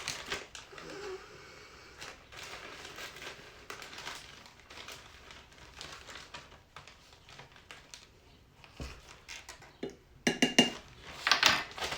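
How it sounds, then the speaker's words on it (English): Dried wormwood is scooped with a teaspoon from a container, giving soft rustling and scraping, then a few brighter clinks of metal on glass near the end, close and quiet. "I am going to measure out 1 teaspoon of dried wormwood"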